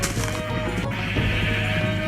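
Minecraft sheep bleat in the video game, a loud nasal bleat near the start over constant game background noise, alongside wooden clicks from the shearing, with no voices.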